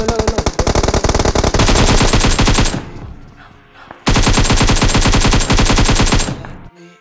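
Rapid automatic gunfire in PUBG Mobile, two long loud bursts of dense machine-gun shots separated by a brief quieter gap, close and continuous.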